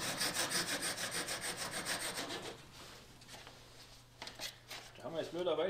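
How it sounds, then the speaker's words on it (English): A handsaw cuts a lime-wood stringer for aircraft wing ribs, its strokes rasping loud and close in a steady back-and-forth rhythm for a few seconds before fading into quieter shuffling and brief rubbing. "Cut it like Grandpa did with a handsaw again."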